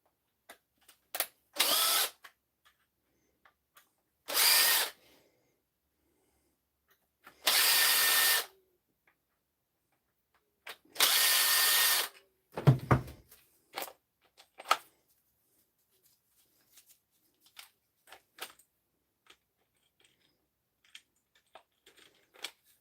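Power drill drives a screw during a repair in short separate bursts, four or five loud whirring runs of a second or two with quiet gaps, then faint clicks and handling noises.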